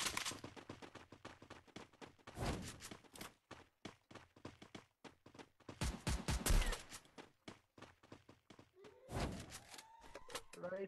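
Gunfire in a video game, with rapid, dense bursts of shots in quick succession, some heavier volleys clustered together, and voices talking over the action.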